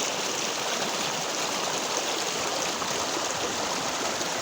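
Steady stream water flowing continuously in a forested village setting, a dense broadband rush and babble at constant loudness with no voices.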